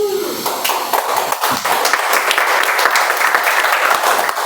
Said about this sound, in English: Thank you for that clearly not forced clapping.